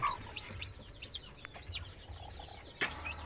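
Hen with a brood of chicks, faint soft clucks and high peeping chirps scattered over quiet background, with a brief louder call near the end.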